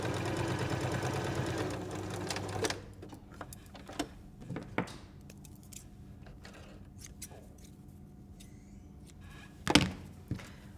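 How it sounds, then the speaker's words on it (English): A sewing machine stitches along the long edge of a fabric cutlery pouch in a fast, even whir for about three seconds, then stops, followed by quiet clicks, fabric rustles and a sharp thunk. "in your sewing machine and stitch along that long edge."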